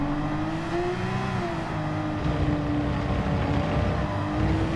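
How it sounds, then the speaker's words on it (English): Porsche 911 RS engine in Gran Turismo 7 running at steady high revs, loud and droning, with pitch rising and settling through an upshift under throttle; no talking. "A little bit of throttle, pushing through and shifting up."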